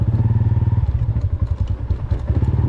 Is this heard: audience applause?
no